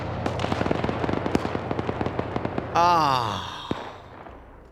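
Repeated mortar shells exploding in a shooter game, a steady rhythm of sharp booms in the first half, then a louder roaring blast that trails off, with a brief sigh from a player.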